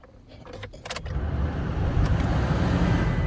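Engine of a new Toyota Tacoma SR pickup truck starting after a few faint clicks, then settling into a steady, loud idle rumble close by.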